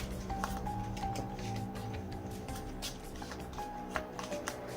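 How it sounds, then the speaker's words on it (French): Playing cards riffle and slide as they are shuffled for a murder-mystery card game, a soft papery flutter up close against quiet room tone. "j'aimerais que tu mélanges les cartes. Voilà, un petit mélange."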